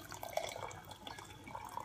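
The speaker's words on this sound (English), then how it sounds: "And then you're going to add your hot water." Hot water poured into a cup over two green tea bags, a faint, soft trickle and splash of liquid with a few brief drip-like accents, no voices.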